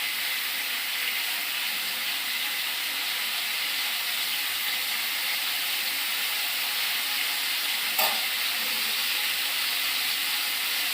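Cucumber with poppy seeds, salt and turmeric fries in a pan while being stirred, giving a steady, even sizzling hiss throughout with one brief clink of the utensil near the end.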